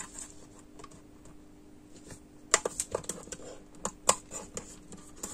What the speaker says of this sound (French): je vais venir le couper. Donc là, j'ai mon mini massicot.